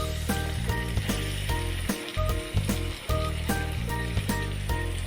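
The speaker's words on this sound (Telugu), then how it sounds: "తర్వాత ఆయిల్ కాగిన కదండి, ఇందులో ఈ ఉల్లిపాయలు అనేవి వేసేయండి. చూడండి పేలుతున్నాయి" Onions crackling in hot oil, a rapid, rhythmic popping and clicking over a loud sizzle, with a brief dip in the middle, close and without talk.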